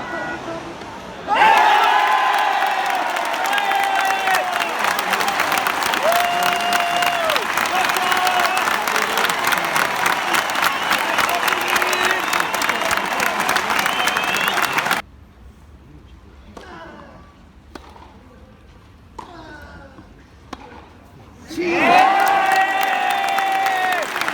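A tennis crowd in Rome roars, cheers and applauds loudly and continuously, drops away into a quieter stretch where a voice talks, then swells back into loud cheering near the end.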